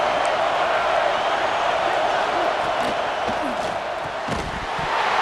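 Football stadium crowd roars steadily for the defense during a red-zone stand in a Florida at Auburn college game, a dense, loud wash of cheering and yelling with a few sharp shouts rising out of it.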